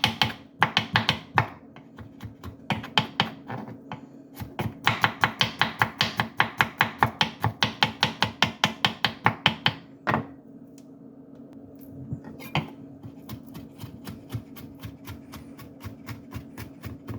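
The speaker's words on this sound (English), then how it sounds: "I'm ready to dice away." A knife chops rapidly on a cutting board in quick bursts of sharp taps, dicing food for bruschetta, pausing between runs, then slowing to a few scattered strikes near the end.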